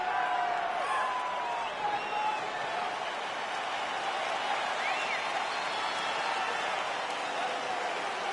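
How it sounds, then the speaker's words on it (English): Fight crowd in the video game UFC 3 keeps up a steady, dense roar of cheering and noise throughout, with commentary voices blended into the din. "Crowd fired up, so are we."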